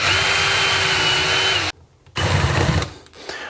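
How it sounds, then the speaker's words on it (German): Power drill boring screw holes in wood with a countersink bit, a steady loud whirring whine that cuts off abruptly, then a brief second burst of drilling with some clatter. "Loch für die Schraube zu machen mit den Senkkopfbohren. Dann einfach zweimal Loch durchmachen."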